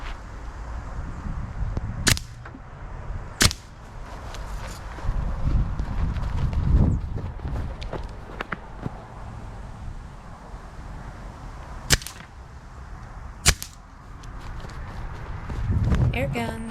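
A Tomcat air rifle fires four sharp, close cracks at uneven intervals, semi-rapidly, over a low rumble of movement and background noise.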